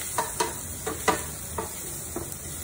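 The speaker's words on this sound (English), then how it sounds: "The moment you add the ginger, the waft" Ginger and onion frying in a pan for a vegetable biryani give off a steady hiss, with several scraping stirs cutting through the sizzle at uneven intervals.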